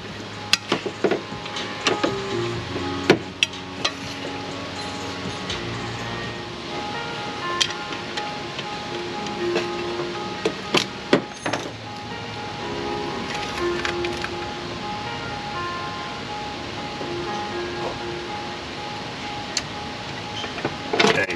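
A wrench works at a bolt on the top end of a GM engine during a teardown, giving scattered metallic clicks and ratcheting ticks over a steady background hum, close and moderately loud.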